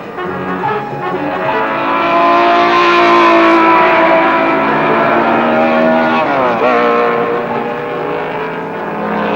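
Shelby Cobra and Ferrari race cars driving hard on a hot track, a loud sustained engine roar with strong tonal harmonics and a brief pitch shift as one passes, steady and close throughout.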